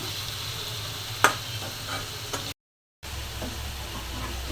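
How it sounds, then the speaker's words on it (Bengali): Chicken sautés in a pan, giving a soft, continuous sizzle with one sharp clink and a few faint stirs, quiet and close, broken by a brief gap of silence. "মুরগিটা কষানো হচ্ছে, ভালো করে কষিয়ে কষিয়ে রান্না করব।"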